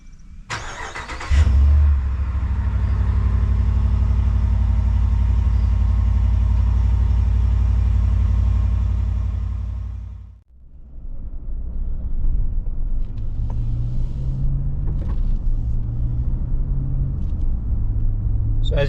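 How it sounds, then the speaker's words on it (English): Stock exhaust on a 2019 Ram 1500 pickup rumbling steadily while driving, a loud continuous low drone that fades out near the middle, then a quieter rumble returns with shifting engine tones. "listen to the stock exhaust"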